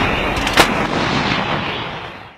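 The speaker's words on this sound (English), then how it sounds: "I can calc indirect fires with the mortars, with the howitzers." A single heavy artillery round fired by mortars or howitzers, one sharp boom followed by a long, loud rolling echo that slowly fades.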